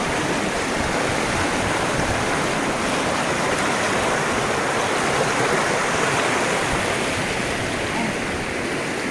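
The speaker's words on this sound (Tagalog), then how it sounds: "Yan yung pangalawang sapa na dinaanan namin." A mountain stream on a hiking trail rushes steadily and loudly close by, a continuous broadband wash of flowing water with no break.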